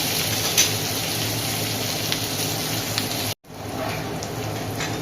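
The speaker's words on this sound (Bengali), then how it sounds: "তো এখন ভালোভাবে এটা ভাজা ভাজা হোক পেঁয়াজ আলুটা" Potato and onion frying in a pan make a steady close sizzle that runs unbroken, cutting out briefly for a moment before resuming just as steadily, with no talking.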